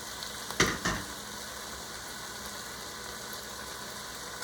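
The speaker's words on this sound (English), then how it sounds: "Now that the meat and veggies are browned and sauteed." Browned meat and vegetables sizzle quietly in a pan, a low steady frying hiss with a couple of sharp clatters of a utensil early on.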